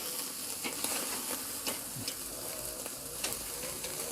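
Meat sears on a BBQ grill in an outdoor lean-to, making a continuous close sizzle and crackle with scattered sharper pops and no voices.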